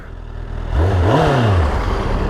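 A Honda CBR1000RR motorcycle pulls away in first gear, its engine note climbing sharply as it revs up, then holding a loud, steady drone close by, with no speech over it.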